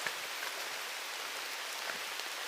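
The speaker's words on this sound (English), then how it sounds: "You can hear the rain." Steady rain falls outdoors, a dense, even hiss of drops on surfaces that holds constant throughout with no voices.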